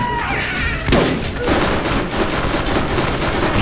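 Shotgun SMG gunfire in the video game Borderlands: a quick burst of rapid shots, then a louder blast about a second in, followed by dense crackling fire that continues to the end.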